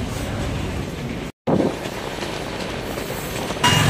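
The Brahmaputra Mail rolls slowly out of Dhupguri station onto the main line, heard from inside a 3-tier AC coach as a steady, loud rumble with a momentary silent dropout.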